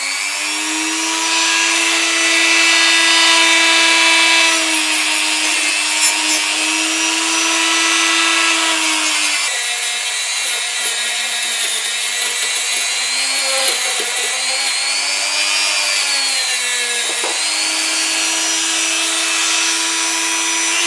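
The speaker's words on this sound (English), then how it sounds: "I've started polishing these castings with a view to removing the oxidisation, ready for priming." Die-cast Dinky Toys sports car castings are polished with a rotary tool and brush to strip oxidisation before priming, giving a steady, loud whining grind that shifts pitch slightly as pressure changes, running continuously without talk.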